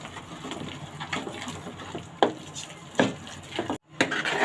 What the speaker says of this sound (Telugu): ఇప్పుడు పప్పు గుత్తి తీసుకొని బాగా మొత్తం కలిసేటట్టుగా ఎంపుకోవాలండి.